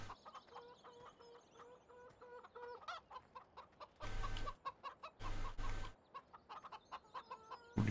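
Chickens cluck on a farm in the Gold Crest Valley video game, repeated short clucks in an irregular rhythm over a quiet game backdrop, with a few louder bursts of broadband noise in between.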